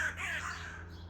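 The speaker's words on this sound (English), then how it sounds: "There's a lot of birds here." A crow caws outdoors at daybreak, one harsh drawn-out call heard over a low steady hum.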